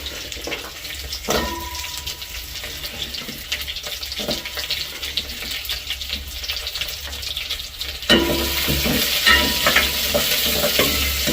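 Garlic fries in a small pan, making a steady close sizzle with intermittent stirring scrapes and clinks. A brighter, louder hiss starts partway through, and there is no talking.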